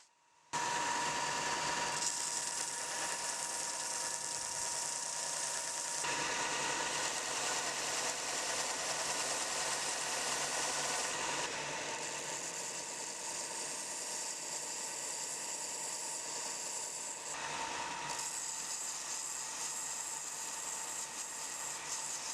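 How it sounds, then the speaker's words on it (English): A belt grinder runs continuously as knife handle pins are ground flush and the handle is shaped into a Coke-bottle profile for a camping knife, producing a loud, steady whine that shifts slightly in pitch and load as pressure changes. "Now it's time to grind the pins down and shape the handle."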